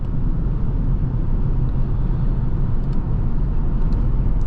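Steady low engine drone and road rumble from a 2025 Maserati GranCabrio Trofeo with the Nettuno V6 while driving, a constant loud cabin hum with no talk.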